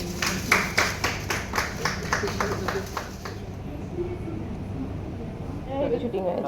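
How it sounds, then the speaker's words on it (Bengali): Audience clapping in rhythm during a Bengali entertainment interview, steady sharp claps for about three seconds that then stop, leaving quieter room sound, with talking running throughout. "হাততালি দেবেন একটুখানি"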